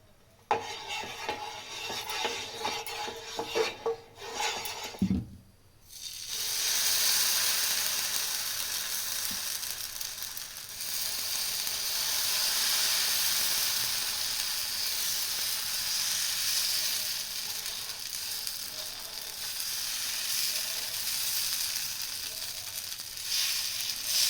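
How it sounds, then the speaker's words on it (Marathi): Dosa batter of rice, moong dal and fenugreek sizzles in oil on a hot pan, a loud, steady hiss that rises after a few brief clattery knocks and keeps going. "आता मी थोडंसं तेल टाकून घेते."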